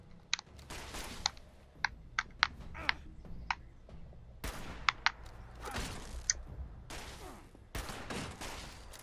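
Bursts of gunfire from Fallout 76 come in short, sharp clusters with gaps between them, mixed with clicking, moderately loud and without speech.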